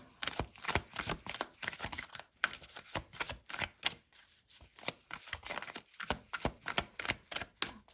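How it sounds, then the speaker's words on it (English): Brisk, uneven riffling and slapping of tarot cards, a rapid series of papery flicks and taps close by, with brief pauses between bursts. "I'm a very messy shuffler."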